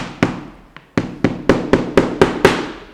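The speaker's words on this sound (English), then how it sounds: "it helps to use a hammer. And I like to hammer over a table leg." A hammer strikes layered leather sandal soles held over a table leg, eight sharp knocks in a fairly even rhythm after one lighter tap, close and loud with no talking.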